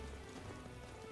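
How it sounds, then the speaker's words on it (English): Steady rain falls in the video game Metaphor: ReFantazio, a dense, even patter filling the background at low volume with no speech. "Oh, I hate the rain."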